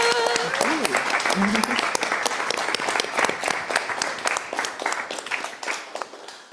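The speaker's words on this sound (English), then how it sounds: "Another round of applause for our speakers." Sustained applause from a crowd, dense clapping that fills the room and slowly tapers toward the end.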